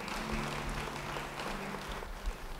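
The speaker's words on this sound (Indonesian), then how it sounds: "Yang mau beri tepuk tangan bagi dia." A church congregation applauds for a person during a sermon, a steady wash of many hands clapping at moderate distance, fairly faint.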